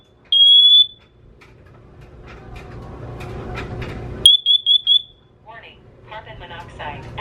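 Test of a combined smoke and carbon monoxide alarm: a sharp, piercing beep, then after a pause a run of several rapid shrill beeps, with a synthesized voice announcement and people talking nearby.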